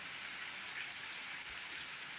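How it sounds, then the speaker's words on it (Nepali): Torrential rain with strong wind, recorded around 7 in the evening during a storm, a steady dense roar of heavy downpour with no voices, hissing evenly throughout. "एकदम मुसलधारे वर्षा सँगसँगै हावाहुरी भयङ्कर रूपले आइरहेको छ"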